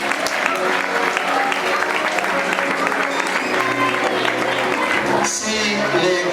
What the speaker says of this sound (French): On se lève et on applaudit pour les enfants.